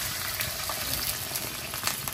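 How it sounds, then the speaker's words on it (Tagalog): Bubbling broth poured into a simmering pot of crab with glass noodles, a dense steady boiling and splashing sound close by, with no speech. "Lagyan natin yung sabaw"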